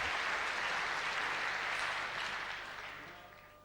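A tournament audience at a professional squash finals match in London applauds warmly in a dense, sustained clatter of clapping that gradually fades toward the end.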